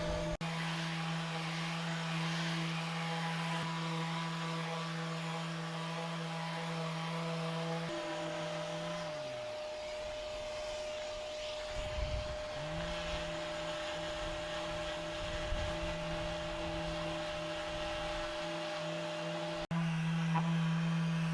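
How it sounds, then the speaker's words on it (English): A power sander grinds steadily across a boat hull's barrier coating, a close continuous whine that cuts out midway, leaves a quieter stretch of scraping and handling noise, then starts up again at the end. "We're trying to sand it down so it gets all smooth"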